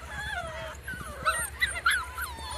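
Standard Schnauzer puppy whimpering and whining close by, a run of thin, wavering cries ending in a few sharper yips over a low steady hum.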